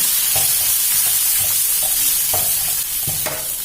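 Rice noodles stir-fried in a pan for pad see ew with fresh shrimp and egg, a steady loud sizzle with repeated scraping and tossing strokes, close up and without talk.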